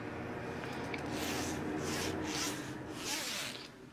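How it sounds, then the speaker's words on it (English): A zipper being drawn closed along a large fabric case, a rapid rasping run in a few close strokes over steady room noise. "I like how easily it zips up."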